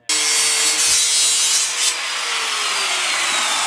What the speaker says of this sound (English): using power tools